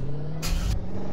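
A Roblox squarebody truck engine turns over and revs in one short burst, loud and close, with a steady low idle hum beneath before and after.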